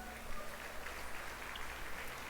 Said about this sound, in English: How about a round of applause for Don Harris, the best in the business?